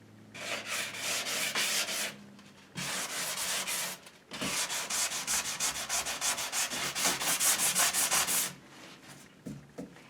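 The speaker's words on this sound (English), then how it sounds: "I like using my sanding block, so we're going to distress this." Hand sanding milk-painted furniture with a sanding block to distress it, rough abrasive rasping in long sustained bursts separated by brief pauses, close and fairly loud with no talking.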